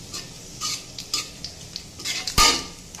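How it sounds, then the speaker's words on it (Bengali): Ginger tempering for a vegetarian vegetable dish fries in a pan, a low sizzle broken by clinks and scrapes of a utensil against metal, with one sharp knock near the end. "এবার এটাকে ভেজে নিয়ে তারপর দিয়ে দেবো"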